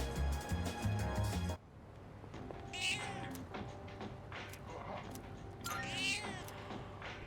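Game music from Persona 3 Reload stops abruptly, then a cat meows twice, a drawn-out wavering cry near the middle and another near the end, over a quiet low background.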